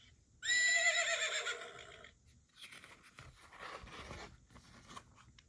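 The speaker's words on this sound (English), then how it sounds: "Horse." A horse lets out one clear, loud whinny lasting over a second, followed by quieter snorting and rustling sounds nearby.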